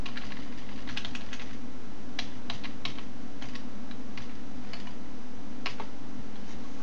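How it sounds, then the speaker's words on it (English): Fast, irregular clicking of keys on a computer keyboard as text is entered, a close, steady patter of light taps with brief pauses between bursts. "type some more text."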